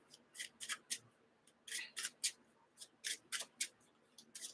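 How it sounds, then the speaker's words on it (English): Arkham Horror: The Dunwich Legacy game cards being shuffled into a deck, a series of quick, crisp riffling bursts close by, separated by short pauses in an otherwise quiet room. "I'm going to shuffle these into the deck first"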